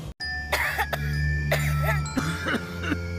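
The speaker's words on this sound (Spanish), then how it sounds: "Cuando la tos entra en tu casa, nadie duerme." Several harsh coughs in sequence from a television cough-remedy commercial, close and loud, over a steady low hum and faint tonal background.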